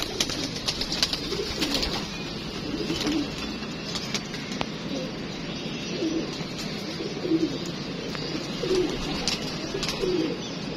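Pigeons coo repeatedly, soft throaty calls recurring every second or two over a steady background hum, fairly close and without speech.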